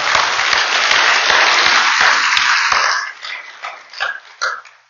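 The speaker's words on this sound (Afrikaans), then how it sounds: "Kom ons gee hulle hande klap." An audience claps for a couple's 40th wedding anniversary, steady loud applause for about three seconds that then thins into scattered, fading claps, heard on its own without talk.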